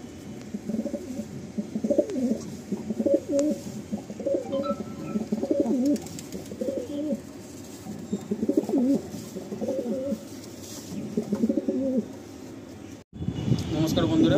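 Madrasi pigeons coo steadily in repeated low rolling phrases under a light background hum, close by, in a setting in Kolkata.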